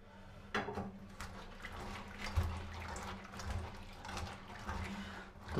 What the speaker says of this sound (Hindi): इसको अच्छी तरह से साफ़ करना है, इसमें जो धूल मिट्टी ना रहे।